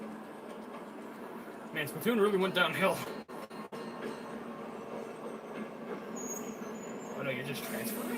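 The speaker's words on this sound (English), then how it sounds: "There's a train." A train rumbles steadily in a video game trailer, a low continuous rolling beneath someone talking over it.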